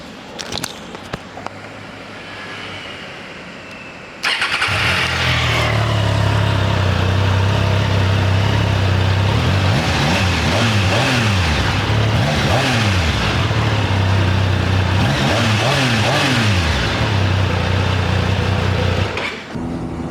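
A 2024 Triumph Daytona 660 inline-triple motorcycle starts with a burst and then holds a loud, steady engine note, with repeated throttle blips rising and falling in pitch over the idle, close to the microphone and with no talk.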